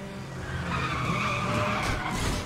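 Tires skid and squeal as a car drifts in Need for Speed The Run, a steady high screech laid over engine roar that holds loud and close for the whole stretch, with no talking.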